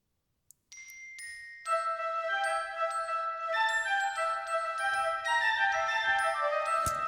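A sampled orchestral glockenspiel from Spitfire Audio Originals Orchestra plays bright, ringing bell tones that build from a few isolated strikes into a sustained shimmering melodic line over softer accompaniment.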